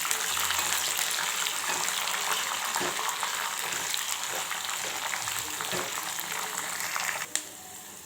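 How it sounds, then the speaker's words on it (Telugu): Green chillies and peanuts fry in a pan, a steady broadband sizzle and crackle running throughout with occasional soft stirring knocks, fairly close and even in level. "ఇప్పుడు ఒకసారి చక్కగానైతే కలిపేసుకొని పచ్చిమిరపకాయలు పల్లీలు అయితే వేగనివ్వాలి"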